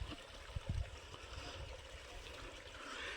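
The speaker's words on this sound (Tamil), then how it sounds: "தண்ணி போகுது பாருங்களேன்." Soft, steady trickle of a mountain stream on the Sathuragiri hills pilgrimage trail, fairly faint, with a couple of low thumps near the start.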